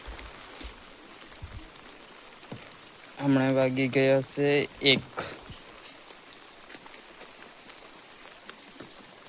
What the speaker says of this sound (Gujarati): સવારનો વરસાદ પડવાનું બંધ નહીં થયું હજુ, કાલેનું ચાલુ છે દેખો